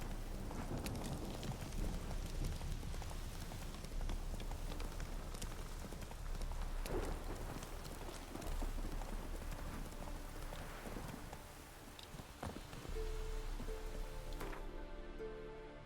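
Horse hooves clip-clop steadily through rain in The Witcher 3, the patter of rain and hoofbeats blending into a continuous, fairly loud bed of sound with no talking over it.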